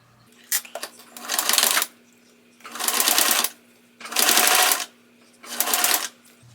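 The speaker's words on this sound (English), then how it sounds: "just top stitch it so it's a nice clean edge" A sewing machine top stitches a shirt placket in four bursts of rapid, steady stitching separated by short pauses, loud and close with a constant motor hum underneath.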